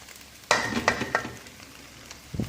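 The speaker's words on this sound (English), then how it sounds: "So now we're going to add all the vegetables in." Vegetables tipped into a hot frying pan hit with a loud burst of sizzling, followed by a few scraping, clattering stirs and a fresh hiss near the end.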